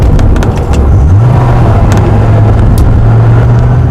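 A Dodge Viper's engine idles at a stoplight with a deep, steady, close and loud rumble that holds a constant low drone throughout, with no voices over it.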